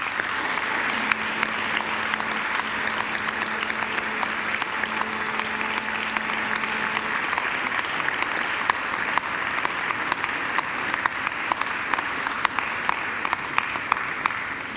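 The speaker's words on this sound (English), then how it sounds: "And now I ask you to give them a mighty round of applause" Sustained applause from a graduation ceremony audience at Macquarie, steady dense clapping filling a large hall at even loudness for the whole stretch, with a faint tone and murmur underneath early on.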